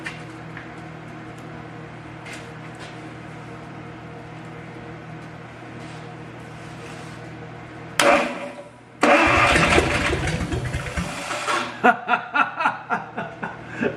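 A 1955 Dodge Hemi 270 engine, unsure when it last ran, cranks and catches after a quiet stretch with a low hum. It bursts to life roughly, then settles into a pulsing, uneven run nearby.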